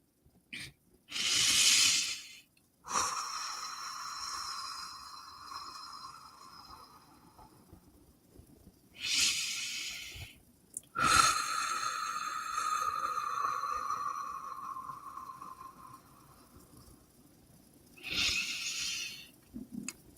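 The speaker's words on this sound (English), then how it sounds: "Deep breathing here if you would like." Deep breathing during a guided meditation: slow, airy breaths close to the microphone, an inhale-exhale cycle repeating several times with long quiet gaps between, no talking.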